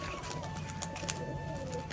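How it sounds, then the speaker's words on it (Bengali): A pie-feathered pigeon doing tumbling aerial stunts high overhead, heard from the ground: faint, distant fluttering and pigeon sounds over a constant hum of open-air background noise. "নিচের থেকে কিন্তু আওয়াজ শোনা যাচ্ছে কেমন কি বাজি করছে"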